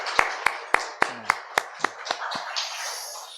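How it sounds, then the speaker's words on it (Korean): A congregation at a Sunday afternoon church service clapping in unison: about nine sharp, evenly spaced claps, with faint voices joining as the rhythm loosens at the end. "일단 우리 서로 박수를 한번 격려하겠습니다"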